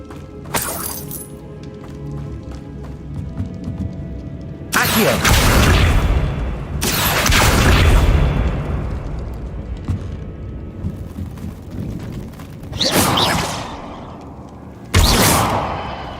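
Confringo blasting spells erupt in Hogwarts Legacy as several loud, booming explosions with shattering debris, spaced a few seconds apart over a low rumbling background.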